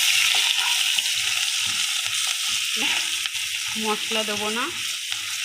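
Fried potatoes with green chili, salt and turmeric sizzle and crackle in a hot pan, a steady close frying hiss under brief speech, with the clatter of stirring near the end.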